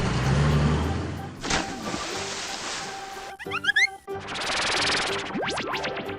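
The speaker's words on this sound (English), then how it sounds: "Garbage truck." A garbage truck engine in a children's cartoon-style sound sequence: a rumbling motor and noisy mechanical bursts, broken up by short playful effects, close and moderately loud.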